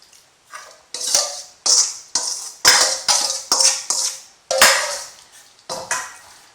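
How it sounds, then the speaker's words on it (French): A knife making light incisions in a piece of meat before it is brushed with a spice marinade, heard as a series of about ten sharp, close taps and scrapes against a board or dish in an uneven rhythm. "Je vais pratiquer quelques incisions comme ça, légères"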